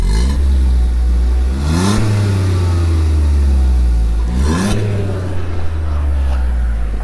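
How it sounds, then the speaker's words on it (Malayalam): A 2025 Maruti Suzuki Dzire VXI manual with a 3-cylinder engine, heard up close at its exhaust, idling with a deep thrum and revved twice, each rev rising to a throaty roar before dropping back to idle. "ഞാൻ നിങ്ങൾക്ക് വണ്ടിയുടെ എക്സോസ്റ്റ് നോട്ട് ഒന്ന് കേൾപ്പിച്ച് തരാം."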